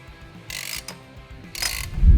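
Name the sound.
spring compressor de-springing a Kawasaki Teryx shock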